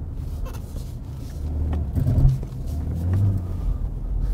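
A 2023-era BMW X1 23i xDrive engine rumbles low and close while driving in snow, then revs harder as the vehicle strains to accelerate, the growl swelling and easing without any talk.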